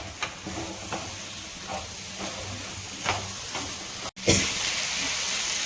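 Cooked drumsticks being stirred with a little water in a pan, a soft continuous sizzle and hiss broken by a few light scraping knocks, quiet and close, with a brief dropout near the end.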